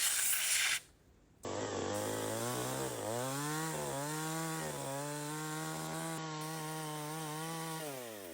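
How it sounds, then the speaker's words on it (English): A loud, continuous power-saw whine cutting through large wooden planks in a forest, pitch dipping and recovering under load, after a brief burst of noise and a moment of quiet. "They move on to sawing more large planks, preparing materials for the next project."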